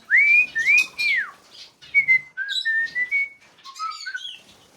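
Clear melodic whistles from a male cockatiel, a long swooping phrase followed by shorter chirpy notes, close and fairly loud with brief pauses between.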